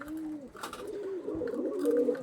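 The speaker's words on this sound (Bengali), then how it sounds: "দেখে নিন, একদম সিঙ্গেল দুমের পায়রা।" Pigeons of the single-tail (single dum) breed coo repeatedly close by, a soft rolling warble that rises and falls and carries on steadily with no talk over it.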